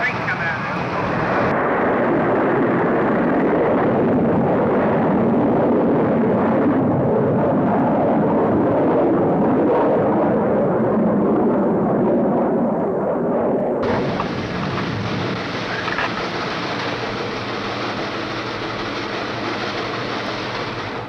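Jupiter-C rocket lifting off with the Explorer 1 satellite, a loud, sustained broadband roar that holds steady for about twenty seconds, thickening midway and carrying a hissing upper edge.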